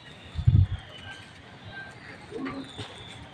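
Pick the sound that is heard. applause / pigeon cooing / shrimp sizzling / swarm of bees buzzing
pigeon cooing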